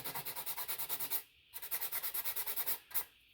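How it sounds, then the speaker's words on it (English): A sanding sponge rubbed over a sculpted figure in quick rhythmic back-and-forth strokes, two bursts separated by a short pause, faint and close with no talk. "And also have a sanding sponge here."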